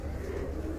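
A pigeon coos softly in a short, low, muffled call with steady background hum and no talking.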